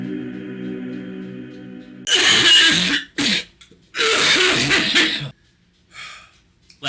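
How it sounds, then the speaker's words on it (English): Laughter turns into coughing: two close bursts of harsh, throat-clearing coughs separated by short gaps, with faint quieter breaths afterward. "Laughing makes me cough"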